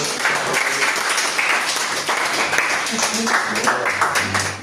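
A church congregation applauds during a worship service, a steady, dense wash of clapping filling the room from start to finish, with voices mixed in.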